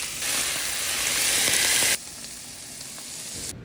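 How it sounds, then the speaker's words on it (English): Loud, steady sizzling of stew beef frying in a hot pan, dropping to a quieter crackle partway through. "In a separate pan, fry up your stew beef."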